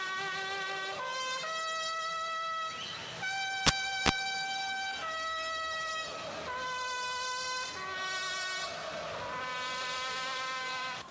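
Fans of São Paulo crowd in front of the Morumbi stadium to celebrate a title, blowing plastic cornetas in long, loud, overlapping blasts with a steady crowd din beneath.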